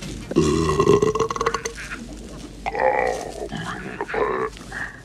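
A Garpunkel creature's loud film belch, a human burp slowed down to sound deeper and longer, rumbles in several drawn-out croaking bursts, close and alone.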